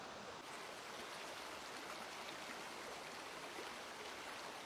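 Large river, the Afon Ystrad in Denbighshire, Wales, flowing with a steady broadband rush that fills the scene without interruption.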